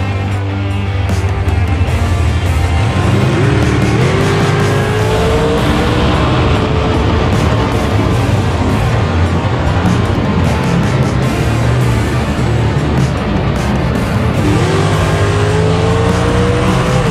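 Dragster race cars at a drag strip in Cedar Falls during a fourth-round elimination, engines droning loud and steady throughout with rising revs as the cars launch and pull away, no talk.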